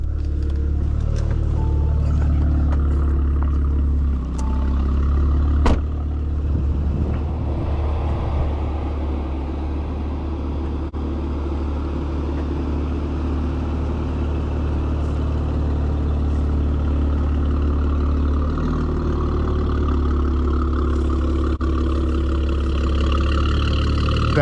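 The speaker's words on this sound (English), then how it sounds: "That exhaust sounds super mean." A 2018 Audi RS5 Coupe with a Stage 2 tune idles steadily, its exhaust giving a deep, loud, continuous rumble with a brief blip early on, close by with no voices.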